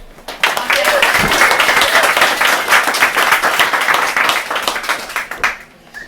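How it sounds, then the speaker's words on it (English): An open mic night audience breaks into warm applause, dense clapping that swells quickly and holds steady for several seconds before thinning out, with a few voices and cheers mixed in. "can we give a warm round of applause to Beck?"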